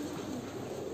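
A lakkha fantail pigeon coos softly inside a loft, a low muffled murmur heard faintly against a steady background hum.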